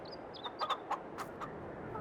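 Farm chickens cluck in Farming Simulator 22, with a few short, sharp squawks and chirps in quick succession, fairly close and clear over a quiet background with no talking.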